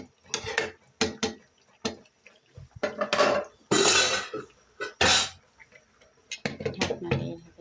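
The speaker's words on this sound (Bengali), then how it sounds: "ঢাকনা দিয়ে ঢেকে দিচ্ছি।" A metal lid clanks onto a cooking pot of chicken biryani with several sharp clatters and knocks, separated by short silences, close and fairly loud.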